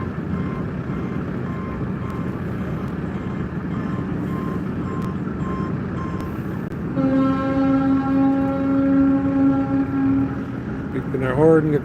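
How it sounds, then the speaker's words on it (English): A steady low rumble, then a tour boat's loud sustained horn tone sounds for several seconds before departure in Cleveland, followed by a short burst of higher beeps near the end. "Beeping our horn, getting ready for departure."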